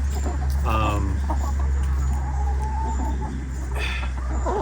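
Chickens cluck and murmur close by, with occasional louder clucks over a steady low hum and background rustling.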